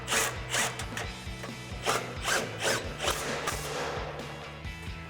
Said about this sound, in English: And then we'll grab our 13mm socket to tighten these down.